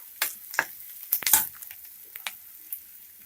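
Onions fry in a pan for egg rice, with scattered scraping stir strokes and crackling spatters over a quiet background. No one speaks.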